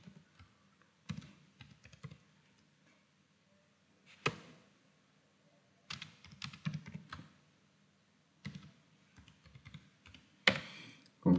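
Short bursts of keystrokes on a computer keyboard as a password is entered during an Oracle Apex installation, separated by quiet gaps, fairly close and crisp.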